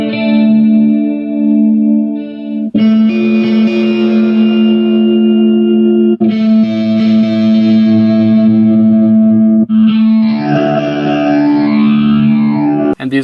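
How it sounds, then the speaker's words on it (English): An electric guitar through an amp and effects presets sounds loud and sustained, shifting through several distinct tones with echo, reverb, distortion and chorus, ending in a swirling modulated passage, close and alone. "And these are just some of the presets I have for my guitar sound."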